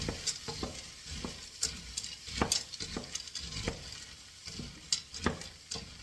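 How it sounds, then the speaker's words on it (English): Frozen green peas fry in a pan for a Hungarian pea soup, giving a steady sizzle broken by repeated scraping stirs and light clatter of a utensil against the pan, close and alone with no talking. "I'm gonna fry them quickly, slowly in the pan, so they get a little bit softer"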